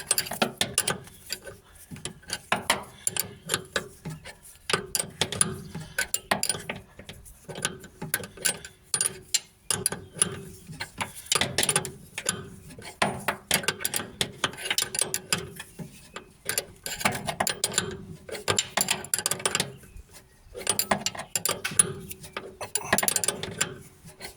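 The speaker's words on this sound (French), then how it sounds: "Ensuite on serre là avec une clé de 16." A 16 mm wrench tightens a bolt on a Renault Dauphine front shock absorber, giving a long run of close, repeated ratcheting clicks and metallic rattles in uneven bursts.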